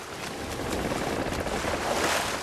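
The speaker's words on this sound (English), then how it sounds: "I hear them creaking a lot as well." Wooden ship hull creaking aboard a sloop in the pirate game Sea of Thieves, a steady low groaning bed mixed with ocean wash and wind, continuous and moderately loud with no talk.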